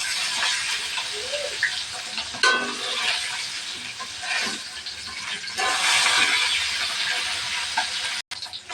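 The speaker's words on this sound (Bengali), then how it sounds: "মাছগুলো ভাজে নেব।" Shol and taki fish fry in hot oil in a pan with a continuous close sizzle and hiss that swells in a few brief bursts, with no voices.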